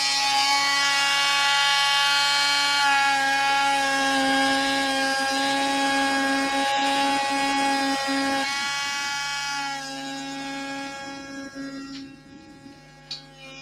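A Dremel rotary tool runs steadily for over ten seconds, a close, loud whine with a strong tonal hum, its pitch and level dropping slightly as it winds down toward the end.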